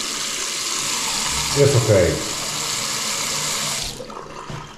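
Water runs from a newly installed tap in a flat being renovated in an apartment block, a steady broadband rush with a brief splashing swell partway through, then cutting off near the end; someone speaks briefly.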